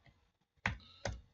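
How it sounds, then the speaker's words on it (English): Two or three sharp, quiet keystroke clicks spaced apart on a computer keyboard while text is entered in an illustration program, with near silence between them. "I'm just going to type"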